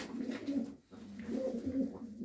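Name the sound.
show birds (pigeons) cooing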